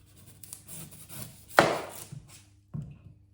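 An onion is chopped with a knife on a board: a few soft, scattered cuts, then one sharp, louder chop and a final knock, close and with no talk.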